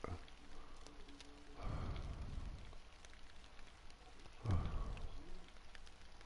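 Rain patters softly in the Fishing Planet game on the Neherrin River, a faint steady hiss with two low, swelling rumbles rising and fading in the background.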